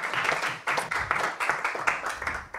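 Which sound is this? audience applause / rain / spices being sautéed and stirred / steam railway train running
audience applause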